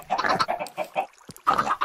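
Video game chickens cluck in a quick, choppy series of calls, close and fairly loud, with a brief gap before another burst.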